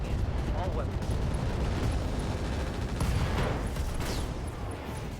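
A volley from every weapon on a mech in the RogueTech game: dense, continuous rumbling blasts and booms roll over each other for several seconds, with a voice speaking over the barrage.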